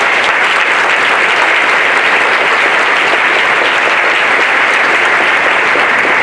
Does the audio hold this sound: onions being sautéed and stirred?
no